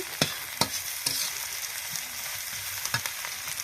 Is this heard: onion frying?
yes